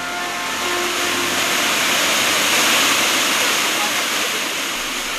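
A constant, loud rushing roar of water falling over a dam on the Teteriv River in Zhytomyr fills the scene without letup, broad and steady like a large cascade nearby.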